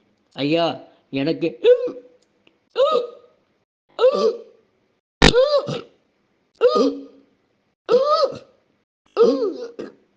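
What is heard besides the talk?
repeated hiccups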